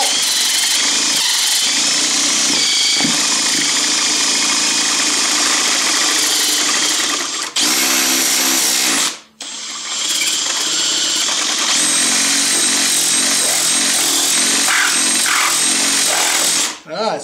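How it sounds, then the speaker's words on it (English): A Mercedes 560SL air pump spun on a bench test gives a loud, steady mechanical whine with a buzzing, drill-like drone. It changes pitch around the middle, cuts out briefly and then runs on continuously to the end. "that pump itself, the air pump, works"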